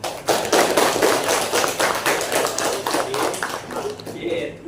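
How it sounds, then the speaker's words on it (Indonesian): Students clap their hands in a classroom lesson, a close burst of uneven claps and taps that thins out toward the end, with voices mixed in. "Ya, kasih tepuk tangan."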